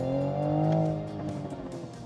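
A 2020 Toyota Supra engine revs close by, a loud harmonic rev that climbs and then settles over about two seconds, with no talking.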